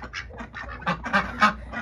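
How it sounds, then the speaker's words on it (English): A little duck on a homestead gives a run of about six short, nasal quacks, close and fairly loud, coming in quick uneven bursts with no talking. "Oh Lord, little duck"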